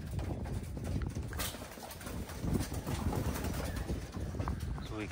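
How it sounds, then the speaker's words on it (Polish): Homing pigeons arrive back at their loft after a training flight, with a dense flurry of flapping wings and scuffling at close range, plus scattered coos and bird sounds throughout. "postaramy się nagrać przylot tych gołębi."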